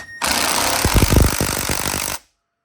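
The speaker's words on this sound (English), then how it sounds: "Use a little impact driver" A small impact driver backs out brake caliper screws on a KLX140L motorcycle: a short whir spins up, then a dense run of rapid hammering bursts for about a second and a half before stopping abruptly, close and loud.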